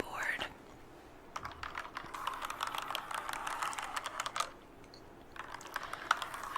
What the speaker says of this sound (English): So the first trigger I have here is a keyboard.